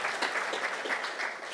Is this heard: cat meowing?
no